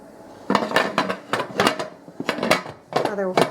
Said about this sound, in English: And Art's going to put the lid on.